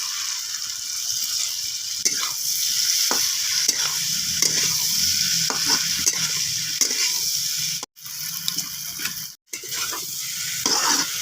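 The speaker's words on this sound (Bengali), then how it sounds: "এবার আলু টমেটো মশলা সবগুলোর সঙ্গে মাছকে ভালো করে একটু উল্টে পাল্টে করে নেড়ে নেব।" Fried fish being stirred in a pan with fried potatoes, whole tomatoes and spices: a steady close sizzle with repeated spatula scrapes and knocks against the pan, briefly cut off twice, with no talk.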